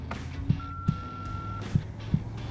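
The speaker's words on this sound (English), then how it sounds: "Leave a message at the beep." A single steady voicemail beep tone lasts about a second, fairly faint over a low background rumble with a few soft thumps.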